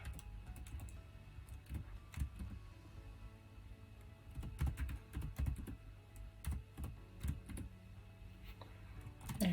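Keys clatter in irregular bursts as an email address is typed on a computer keyboard, close and fairly quiet over a low background hum, with no talking.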